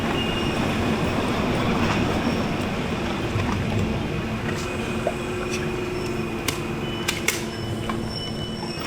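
A train in Poland rumbles steadily with a heavy, continuous low roar, occasional high wheel squeals and scattered clicks of the rails, sustained for several seconds without talking.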